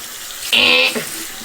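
A sink faucet runs water during hand rinsing, a short, close burst of about half a second that starts and stops abruptly against a quiet room.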